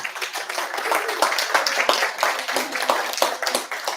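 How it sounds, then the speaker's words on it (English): Enthusiastic clapping from a congregation at a Sunday service, close and lively with distinct sharp claps over a steady wash of hands. "So let's honor women by giving a round of applause."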